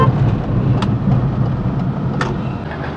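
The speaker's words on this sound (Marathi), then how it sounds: "चला तर आपण गाडी पार्क करू." A Tata Nano's small engine hums steadily at low revs while parking in front of an office, with continuous road rumble and a couple of faint clicks, no talking.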